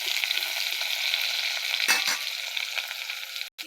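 Chopped onion, garlic, pointed gourd and coriander leaves are stirred into hot oil in a pan, giving a continuous close sizzle with a couple of scraping strokes near the end.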